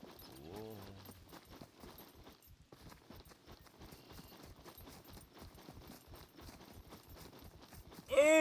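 Horse hooves clip-clop steadily in the survival game SCUM, a continuous rhythmic run of hoofbeats at moderate distance, mixed with a brief whinny-like call near the start and ambient game sounds.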